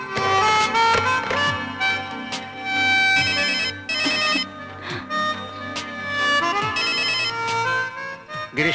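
A melodic phone ringtone plays over and over as a call goes unanswered, bright repeating tones in short phrases with brief gaps, close and clear, with no voices.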